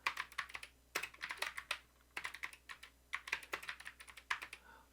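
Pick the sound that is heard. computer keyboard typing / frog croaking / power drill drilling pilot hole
computer keyboard typing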